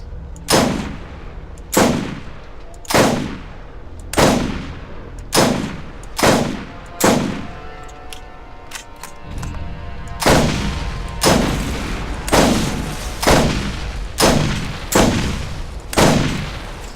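Heavy explosive gunshots from the Cobra in Borderlands boom out one at a time in a steady rhythm, each blast loud and resonant with a tail, pausing briefly midway before resuming at the same pace.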